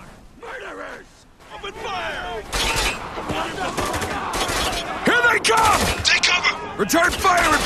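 Gunfire in Spec Ops: The Line, loud bursts of automatic rifle fire and scattered shots over several seconds, mixed with shouting voices and game battle noise.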